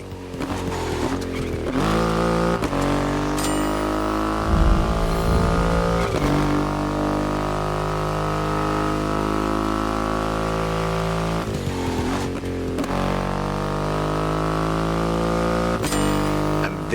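A Triumph Rocket 3 motorcycle with a 2.5-liter engine rumbles and revs in The Crew Motorfest, a deep harmonic drone that climbs and settles through several throttle swells, loud and close, with sharp shifts between gears.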